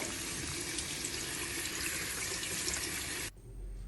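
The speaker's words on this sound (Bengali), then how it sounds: "ধুয়ে নিচ্ছি গায়ে একটু পাতা তারপরে একটু ময়লা আছে" A homegrown watermelon fresh from the garden is washed under running tap water, a steady close splashing hiss that stops abruptly near the end.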